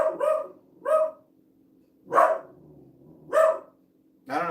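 A dog barks five times close by in loud, sharp, evenly spaced barks, with quiet pauses between them and a faint steady hum underneath.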